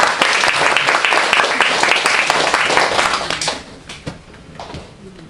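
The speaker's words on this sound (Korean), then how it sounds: "박수 한번 합시다." A church congregation at Sunday worship bursts into loud applause that holds for about three and a half seconds, then thins into a few scattered claps and fades.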